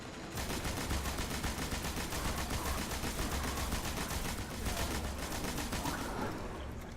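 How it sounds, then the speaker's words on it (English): In Destiny, a void gun fires on a boss in the Meridian Bay strike on Mars, giving a steady rapid stream of close automatic shots that carries through the whole stretch with only a slight dip partway. "This void gun I have is tearing right through him."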